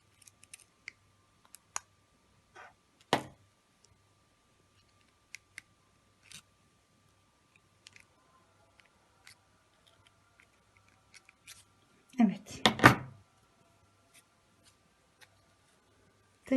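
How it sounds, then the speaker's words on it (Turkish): Scissors snip excess yarn from a crocheted tulip, with a sharp single cut and later a louder burst of cutting and handling noise against faint scattered clicks in a quiet room. "Fazlanını da kesiyorum."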